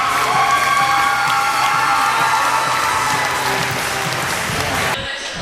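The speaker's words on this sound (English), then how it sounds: "Let's have another round of applause for our seniors." Applause and cheering fill a school gymnasium at a high school volleyball match honoring seniors, a dense steady roar of clapping with shouts and whoops, fading slightly and cutting off near the end.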